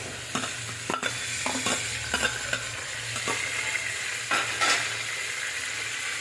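Prawn fritters frying in hot oil in a home kitchen, a constant close sizzle broken by several sharp clinks and scrapes of a utensil stirring and turning them in the pan.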